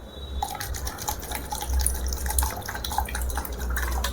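Ionized water from a dispenser drips and splashes into a container, a run of quick, irregular liquid plinks over a low running-water hum, close and moderately quiet, with no talking.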